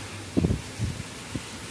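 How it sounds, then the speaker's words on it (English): Gusty storm wind buffets the microphone outdoors during heavy rain, with a few low, rumbling bursts of wind noise against a soft steady background. "It's been super windy"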